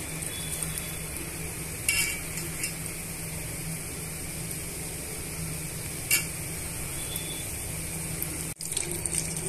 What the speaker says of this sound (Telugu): ఇప్పుడు మిగతా మిర్చీలను కూడా ఇలా బజ్జీలుగా వేసుకుందామండి.